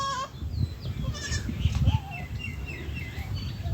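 Goats bleat in short wavering calls over a busy outdoor grazing area in a remote village, with birds chirping high above and low rumbling noise underneath.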